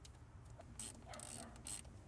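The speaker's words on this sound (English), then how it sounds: "I'm gonna tighten it with 10mm socket." A ratchet with a 10mm socket tightens a nut during valve cover gasket work on a Toyota Sienna, making two short bursts of rapid metallic clicking close by against low background noise.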